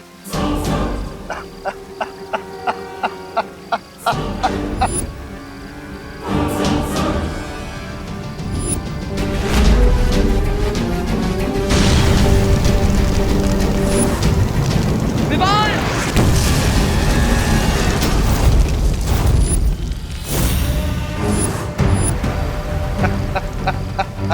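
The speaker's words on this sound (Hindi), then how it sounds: "विवान, इस गोले से बचो, इस तोप का वार बहुत खतरनाक है" Booming blasts of cannon fire and explosions from a TV superhero series burst out over loud dramatic music, with rumbling crashes and sweeping effects throughout.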